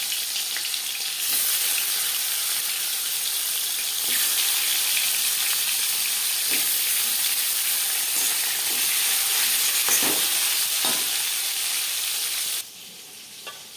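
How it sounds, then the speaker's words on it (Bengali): Marinated silver carp pieces fry in hot refined oil, giving a loud, continuous close sizzle with a few scraping stirs, which drops off abruptly near the end. "4 চামচ রিফাইন্ড অয়েল গরম করে নেওয়ার পর দিয়ে দেবো ম্যারিনেট করে রাখা মাছ।"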